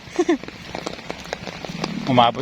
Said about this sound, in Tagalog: Inabutan lang kami ng ulan kaya dito muna kami sa gilid.